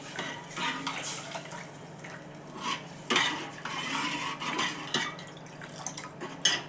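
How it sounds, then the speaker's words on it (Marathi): A spoon scrapes and stirs tempering in a cooking pot with fresh curry leaves, giving intermittent metallic clinks and knocks over a soft sizzle, close and fairly quiet, with no talking. "आधी तो जो कट आहे ना त्याला फोडणी घालून घेते"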